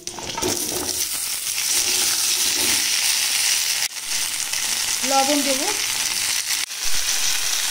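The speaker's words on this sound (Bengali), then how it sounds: "কচুগুলো ভাজা হতে হতে" Taro pieces fry in a pan with a dense, continuous close sizzle and occasional clatter of stirring, while someone briefly speaks over it.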